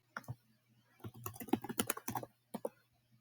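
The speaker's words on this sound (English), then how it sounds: "you could hear me typing on my keyboard" Quick bursts of close computer keyboard typing picked up by a nearby microphone, with individual keys clicking in uneven clusters and brief pauses between them, over a low steady hum.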